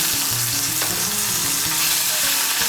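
Ginger paste with asafoetida sizzling in hot oil in a pan, a loud continuous frying hiss with soft clinks and scrapes of stirring, no voices.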